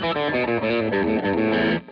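A Stratocaster electric guitar with Texas Special pickups plays a short, loud, heavily distorted phrase of thick sustained notes. The tone is bright and saturated, and the notes cut off abruptly at the end.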